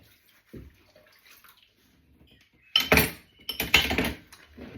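Running water splashes in a sink as metal cutlery clinks and rattles close by, after a few quiet, soft knocks.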